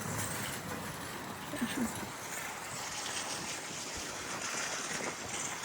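Steady roaring strong, cold wind buffets the microphone outdoors throughout, a constant broadband rush with gusty swells, loud and close.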